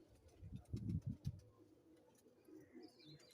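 A breeder pigeon coos softly in a short series of low throaty pulses, then quieter background noise follows.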